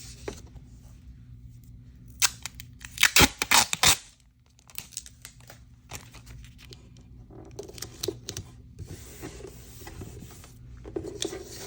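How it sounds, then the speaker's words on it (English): Tape gets ripped and crinkled over a paper drawing for a homemade squishy toy, with a cluster of loud tearing bursts in the middle and softer scattered crinkles and pats around them. "I want to put tape all over the drawing."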